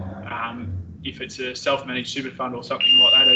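A smoke alarm goes off near the end, a steady high-pitched electronic tone that starts under continuous talking and holds until the clip ends.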